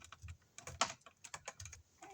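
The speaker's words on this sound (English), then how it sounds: "now we'll cut it so all of them are even at the end here." Cutters snip through copper electrical wires to trim the ends even while rerouting wiring for a window, a quick run of close, sharp clicks and snips in an irregular rhythm.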